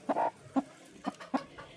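A broody hen clucks in short, irregular bursts, four or five throaty clucks spaced apart, close by and fairly clear with little background noise.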